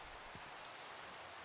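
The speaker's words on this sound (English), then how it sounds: "Well, now it's raining" Steady rain in Minecraft, a soft, even hiss of falling drops that stays faint and unbroken with no voices.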